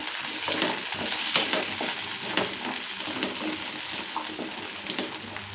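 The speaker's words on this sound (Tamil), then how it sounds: "மீடியம் சைஸ் தக்காளி இந்த மாதிரி 3 வெட்டி வச்சுருக்கேன், அதையும் போட்டுக்கலாம். இப்போது போட்டு நல்லா அது வதங்கி வரட்டும்." Three chopped medium tomatoes sautéing in a pan, a steady close sizzle broken by scraping and stirring clicks, with no talking.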